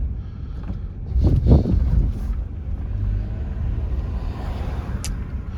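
Inside a 2008 Lexus RX350 on the road, a low steady road and wind roar fills the cabin, swelling briefly early on, with a faint click near the end and no talking.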